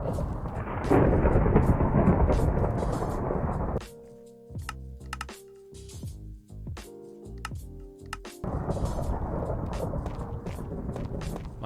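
Minecraft thunderstorm: heavy rain and rumbling thunder roar loudly, give way to a quieter stretch of tonal in-game notes and clicks, then the storm wash returns.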